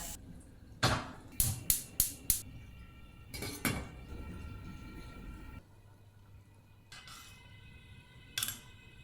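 Metal utensils clink against a pot in a quick series of close taps, followed by scattered softer knocks and clatters amid quiet room noise.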